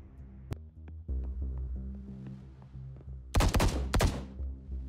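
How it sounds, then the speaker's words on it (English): Gunshots in The Bookwalker: Thief of Tales come as scattered single cracks over a droning background, then a dense close burst of rapid fire, with no speech. "More gunshots."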